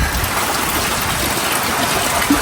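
Steady, dense rain hiss fills the scene without a break, a constant wash of falling water with no voices.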